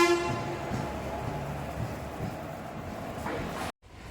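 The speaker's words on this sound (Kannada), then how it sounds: "ನೋಡಿ ಇದು ಇಂಜಿನ್ನು. ನಾನು ಬಂದಿದ್ದ ಟ್ರೈನ್ ಇಂಜಿನ್ನು." A train engine rumbles steadily at a station on the Bangalore to Pondicherry line, a low continuous drone with a brief horn-like tone at the start, cutting off abruptly near the end.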